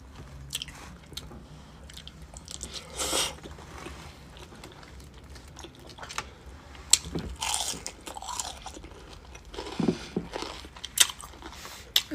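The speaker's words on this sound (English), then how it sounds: "Hear that crunch?" Someone eats crunchy fried fish close to the microphone, with repeated irregular crunching bites and chewing over several seconds, loud snaps scattered among softer mouth noises and no talking.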